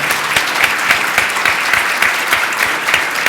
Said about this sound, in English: a round of applause for our panelists